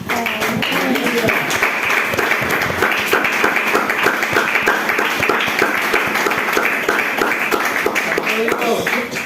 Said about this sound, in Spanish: Dele palmas a Dios